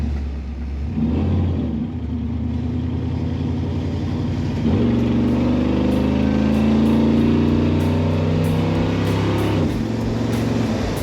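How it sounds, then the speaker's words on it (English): A lowered 1980 Chevrolet C10 pickup truck engine revs up through several gears, the rumbling tone climbing and dropping at each shift, loud and close. "Very nice sound comes from this truck."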